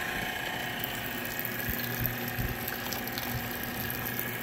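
A seawater desalinator's high pressure pump runs steadily, a constant mechanical hum with a watery rushing layer and faint irregular ticks, close and continuous throughout.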